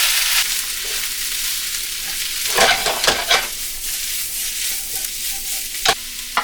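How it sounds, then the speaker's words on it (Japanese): Aromatic vegetables for a beef stew are stir-fried over medium heat, giving a continuous close sizzle, with a cluster of louder scraping and stirring strokes in the middle and a few sharp clacks near the end. "この香味野菜は中火でしっとりするまで炒めます。"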